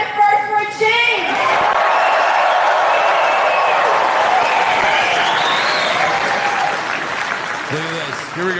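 A huge campaign rally crowd for Pierre Poilievre cheers and applauds loudly and continuously, a dense roar of clapping and shouting that swells and holds throughout, with a few voices rising above it.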